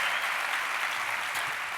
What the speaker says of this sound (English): Can you guys give us a quick round of applause, get it cooking?